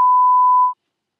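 A My Little Pony alarm clock emits a single steady electronic beep tone that holds for about three quarters of a second, then cuts off abruptly into silence.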